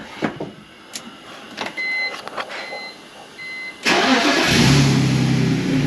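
Faint clicks and a starter whine lead into a BMW E46 engine catching near the end, then settling into a loud, steady idle close by.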